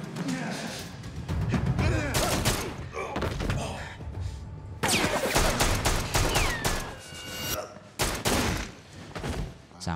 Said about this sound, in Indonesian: Sebelumnya terjadi baku tembak antara sisa anak buah Chandler dengan Vincent.